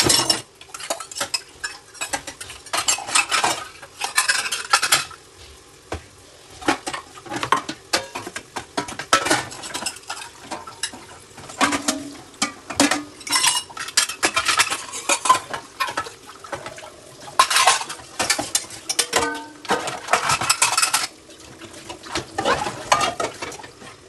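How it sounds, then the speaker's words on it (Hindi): Pots, pans and cutlery clatter and scrape steadily while dishes are washed by hand at home, with frequent loud metallic knocks and clinks over running, splashing water and no talking. "तो फाइनली बर्तन तक धुल गया है।"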